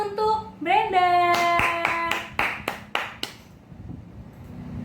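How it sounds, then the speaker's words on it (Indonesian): A classroom of primary pupils claps in a quick, even rhythm of sharp, close claps that then trails off. A teacher's voice is heard just before. "Tepuk tangan untuk Brenda"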